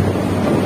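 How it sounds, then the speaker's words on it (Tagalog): Wind blows steadily across an open outdoor spot, a dense low rumble of gusts buffeting the microphone without pause for under a second, with no voices. "Ang hangin."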